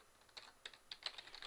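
Code being typed on a computer keyboard for an AJAX tutorial, quick irregular key clicks in short bursts, quiet and close, with no speech.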